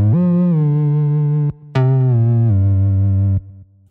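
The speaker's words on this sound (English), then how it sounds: "Firstly, I added the distortion plugin." A heavily distorted bass synth, processed with a distortion plugin in Cubase 11, plays sustained low notes with buzzy, harmonic-rich overtones, shifting pitch and cutting off briefly between phrases.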